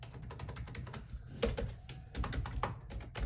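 A Josef keyboard being typed on quickly, a dense run of soft, muted key taps at close range with a few slightly louder strokes, heard alone.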